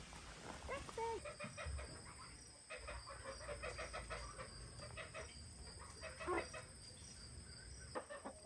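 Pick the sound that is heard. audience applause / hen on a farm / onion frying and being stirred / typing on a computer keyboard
hen on a farm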